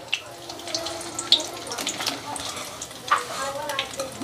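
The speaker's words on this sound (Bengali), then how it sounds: "এরকম করে আস্তে আস্তে সব পনিরগুলো হালকা করে ভেজে" Paneer pieces frying gently in a pan, a soft, steady sizzle with occasional spatula taps and scrapes at close range, and brief murmurs of talk underneath.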